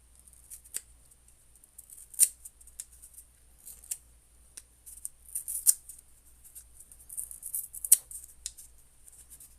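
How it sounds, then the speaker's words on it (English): Crafting material torn by hand at the corner of a budget-made tabletop terrain piece, with faint, scattered crisp ripping and crinkling bursts over a low steady hum. "tear up that corner too"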